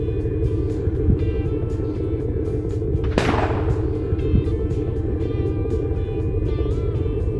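A single rifle shot at whitetail deer during a hunt cracks out with a fading, echoing tail, sounding somewhat distant over a steady low outdoor rumble, and no one speaks.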